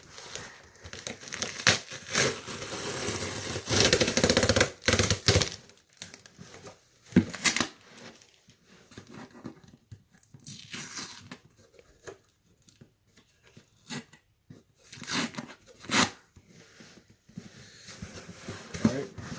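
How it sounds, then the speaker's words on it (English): Packing tape being peeled off a cardboard shoe box holding Nike Air Force 1 07 LV8 sneakers, heard as close, loud crinkling and tearing bursts in irregular pulls with brief quiet gaps. "let's just peel the tape off."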